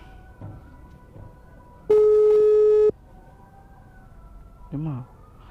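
A single steady electronic tone sounds for about a second, like a phone ringback beep, amid quiet background noise and a brief voice afterward.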